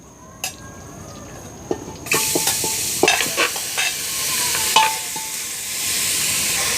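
Mutton pieces tipped into a hot pressure cooker on a stove burst into a loud, steady sizzle after a quiet start, with scattered clinks and stirring clatter running through the frying.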